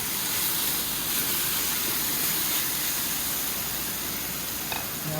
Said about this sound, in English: So what I will do is turn that burner down a little bit.